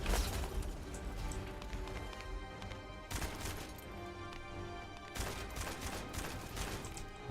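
Rapid gunfire from The First Descendant rattles in dense, sustained bursts with sharp volleys and brief lulls, loud and close throughout with no voices.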